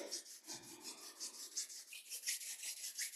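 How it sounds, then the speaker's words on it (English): Palms rubbed briskly together in a quiet guided breathing and meditation session, giving a close, steady dry swishing with rhythmic pulses throughout, alone with no talking. "Continue to rub the palms together"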